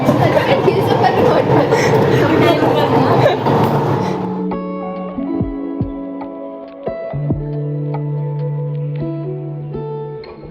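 Metro train ride heard from inside the carriage, a steady rumble and clatter of the car running along the track, louder in the first few seconds and then a quieter hum with tonal whines and brief knocks.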